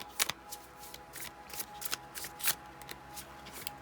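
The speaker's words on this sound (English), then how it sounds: "Shuffling on camera." Tarot cards are shuffled up close in a quiet room. Their riffling bursts come as a rapid, irregular run of crisp, papery flutters.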